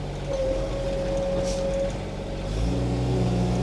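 Groundhog BH25D mini-excavator engine idling at almost no throttle, a steady low rumble with a faint whine, growing slightly heavier near the end.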